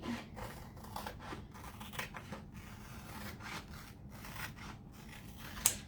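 Scissors snip through a Chalk Couture tracer with quiet, repeated rubbing cuts at close range, ending in a brief sharp click.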